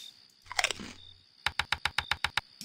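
Crunchy food, a taco, is bitten with a loud crackle, then chewed close to the mic in a steady run of about nine sharp crunches.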